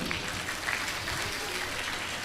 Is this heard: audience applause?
yes